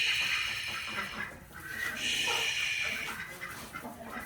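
Chickens cluck in a farm coop bedded with hay, a steady busy flock chatter close by that continues through the whole stretch, with no clear talk over it.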